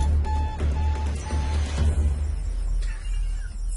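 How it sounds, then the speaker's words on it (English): An alarm sounds a few short, evenly pitched electronic beeps in the first second and a half, heard faintly over a low steady hum, then fades out. "Why is my alarm going off?"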